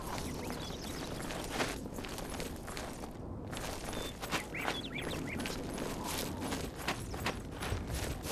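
Horse hooves clip-clop steadily in the Oblivion video game, a continuous run of even rhythmic hoof falls over a fairly dense, steady background.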